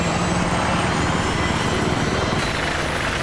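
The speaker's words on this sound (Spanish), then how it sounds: "¡Oh, un helicóptero!" Helicopter engine in the video game Battlefield 3, a steady loud rotor and turbine drone that holds constant throughout, with no talk over it.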